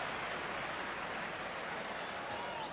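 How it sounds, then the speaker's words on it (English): A football crowd at a Southampton v Brighton match applauds in a steady, dense wash of clapping that holds evenly throughout, heard from a distance. "Good round of applause for a nice skill from Chris Nicholl."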